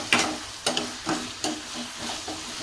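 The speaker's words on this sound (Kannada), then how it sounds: "ಇದು ಚೆನ್ನಾಗಿ ಹಸಿ ಸ್ಮೆಲ್ ಹೋಗೋ ತನಕ ಹುರಿಯೋಣ" Mint masala frying in oil in a pan for pudina avalakki while a spoon stirs it, with a steady soft sizzle broken by several sharp scraping strokes, close and fairly loud, no talking.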